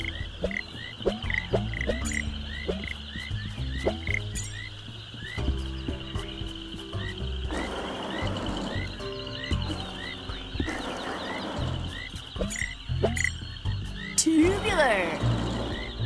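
Frogs croak in a swamp in the Ben 10 Power Trip video game, a dense, continuous chorus of overlapping croaks with layered game sounds and music beneath, lasting the full stretch.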